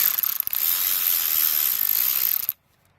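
A ratchet wrench loosening bolts while pulling the intake off a 4G63T engine from an Eclipse: a rapid, loud, close clicking run that goes on for about two and a half seconds, then stops abruptly into silence.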